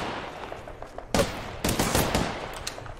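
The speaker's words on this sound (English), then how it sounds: "now I'm being shot from up top" Apex Legends gunfire coming from behind and above: sharp bursts of shots arriving around the one-second mark and again from about 1.6 seconds, loud against a busy game background.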